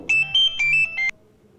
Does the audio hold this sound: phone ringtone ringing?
yes